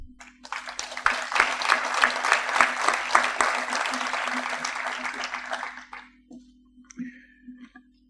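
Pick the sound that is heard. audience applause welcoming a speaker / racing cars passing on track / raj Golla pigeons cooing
audience applause welcoming a speaker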